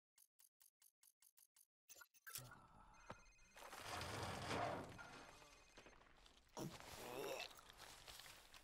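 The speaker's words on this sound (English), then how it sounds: "Sir, it's his cell phone." Cell phone ringing in Call of Duty 4 Remastered during an interrogation scene: a rapid burst of short, evenly spaced electronic rings repeating about seven times, then giving way to noisy scuffling and voices.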